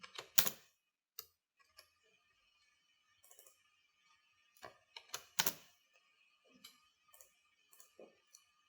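Keyboard keys tapped while entering a date into an Excel spreadsheet, a few sharp clicks in small irregular bursts with quiet gaps between, close and fairly soft, no talking.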